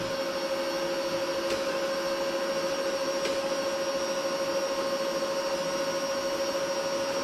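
Steady mechanical whir of an R-Tech inverter MIG welder's wire feed running, a constant hum with a sustained whine, continuous and fairly close throughout with no talking.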